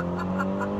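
Ferrari GTC4 Lusso T V8 under launch-control acceleration, a brief, loud, close engine note with a strong steady low hum and rising harmonic overtones.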